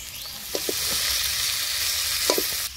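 Fish heads going into a hot pan of already-fried potato and onion give a steady, loud oil sizzle with a few short utensil knocks and clicks on top.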